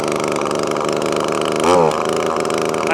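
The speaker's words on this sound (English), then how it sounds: "you can hear it starting to pick up in revs" An Echo ES-2400 leaf blower's small two-stroke engine runs steadily after a carburetor change, then briefly surges in revs before settling back to a buzzing idle, loud and close.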